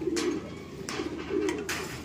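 A racing pigeon coos softly after arriving at its loft at the end of an old-bird derby race, a few low throaty coos repeated at close range, with light rustling and no talk.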